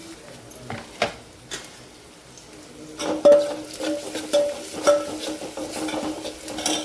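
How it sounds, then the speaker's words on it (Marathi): Onion, tomato, coriander and curry leaves with spices are sautéed in hot tempering oil in a pan, with soft sizzling under repeated scraping and stirring strokes of a spoon, close and moderately loud. "सगळं साहित्य छान परतून घ्यायचं आहे फोडणीमध्ये"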